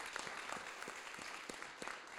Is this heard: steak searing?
no